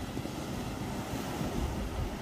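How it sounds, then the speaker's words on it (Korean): Strong ocean waves crash against the rocky shore of Sado island near Yeosu, Korea, a dense, continuous roar of surf with wind buffeting the microphone. "오늘 파도가 많이 칩니다."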